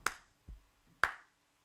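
Two sharp hand claps about a second apart with a soft thump between them, close and dry in a quiet room, with no talking.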